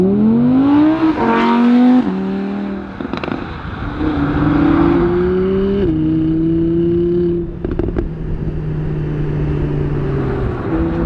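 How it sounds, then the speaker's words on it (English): An Audi R8 RWS rear-wheel drive sports car engine revs hard, pitch climbing through gears with brief drops at each shift, loud and close with no talking. "They've built a rear-wheel drive sports car."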